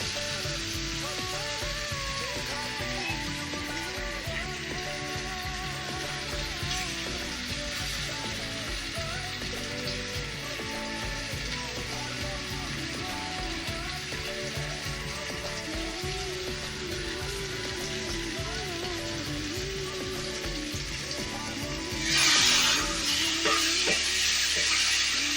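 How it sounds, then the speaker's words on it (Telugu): Tamarind chutney fries in oil in a pan, giving a steady, close sizzle with occasional stirring that continues throughout and swells briefly near the end. "ఇలా కొద్దిసేపు ఒక 5 నిమిషాలు ఆయిల్ పైకి తేలేదాకా ఫ్రై చేసుకుందాం కొద్దిగా"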